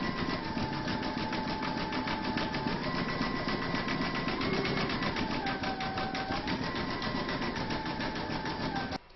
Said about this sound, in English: stitch around number 5, and that's going to zigzag all around the raw edges of the pineapple.